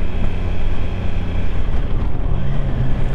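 A Triumph Tiger Sport 660 motorcycle engine hums smoothly and steadily up close in first gear, with a low droning tone, a slight pitch rise near the end and wind rushing over the microphone.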